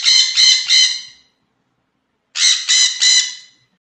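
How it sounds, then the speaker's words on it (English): A parrot squawks loudly in two bursts of three quick, harsh cries each, with a second of silence between the bursts and no voices. "P for parrot."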